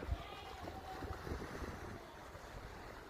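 A quiet, steady wash of water and low engine rumble, like a boat moving along, with soft splashing and a faint breeze.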